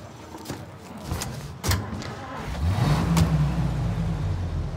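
A car engine in the video game Mafia Definitive Edition rises and revs as the vehicle pulls away, with a few thumps early on and a steady, close engine drone building over the second half.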